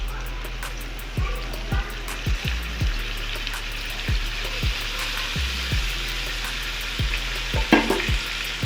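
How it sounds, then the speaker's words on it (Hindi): Tinda seeds frying in oil with softened onion, a constant sizzle punctuated by regular knocks of a spoon on the pan roughly every half second to second, close and loud with no speech. "बीज को भी हम प्याज में 1 से 2 मिनट ऑयल में फ्राई करेंगे"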